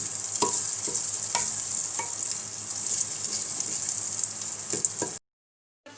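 Potatoes and spices fry with a steady loud sizzle in a pan for a Lahori chickpea curry, with repeated scraping stirs, before the sound cuts off abruptly near the end.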